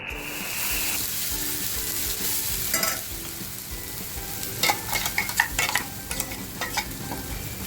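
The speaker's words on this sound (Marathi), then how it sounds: "मसाला बघा आपला छान तापून झालेला आहे मस्त तडका बसलाय" A homemade masala paste with garlic sizzles steadily in a hot pan for a dhaba-style egg tikka masala, with scraping stir strokes growing busier toward the end, close up with no talking.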